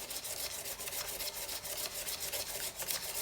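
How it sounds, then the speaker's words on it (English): Steady, fast rasping scratch of sandpaper rubbing against a pen spinning on a woodturning lathe, a continuous soft hiss with quick rhythmic strokes and no talking. "I'm just gonna sand it like this to get rid of those radial scratches"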